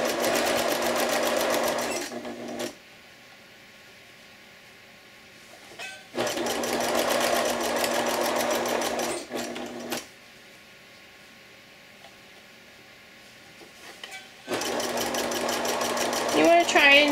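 Sewing machine stitching along the edge of a bib apron in three loud steady runs of a few seconds each, with quiet pauses between them while the fabric is turned.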